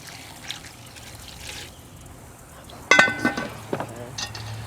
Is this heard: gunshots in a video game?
no